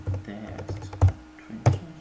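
Quiet keystrokes patter on a computer keyboard in short irregular bursts, with a couple of sharper clacks standing out and faint speech in the background.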